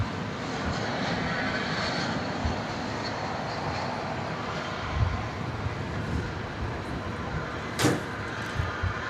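A departing airliner at Dallas Fort Worth Airport bound for Istanbul, its engines giving a steady, distant broadband roar that holds evenly throughout, with a couple of faint knocks and no talking.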